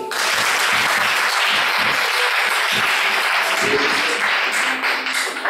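A church congregation applauds steadily, a dense wash of many hands clapping at full volume for the whole stretch, with faint voices mixed underneath.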